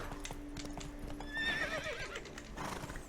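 A horse in The Witcher 3 whinnies with a rising, wavering neigh over rhythmic clip-clop hoofbeats, close and steady throughout.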